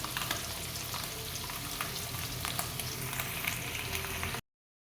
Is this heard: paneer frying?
yes